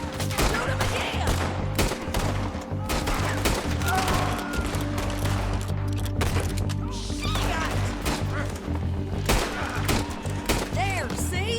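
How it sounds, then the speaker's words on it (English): Red Dead Redemption 2 gunfight with dense, continuous shooting, sharp reports scattered over a steady droning backdrop, and voices shouting in between. "Shoot him again."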